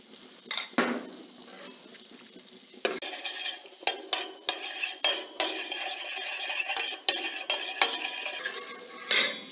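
Butter and a little oil melt in a pot, first with quiet scrapes and clinks of a utensil. A loud, bright sizzle then starts and carries on under repeated stirring knocks, with a final clatter near the end.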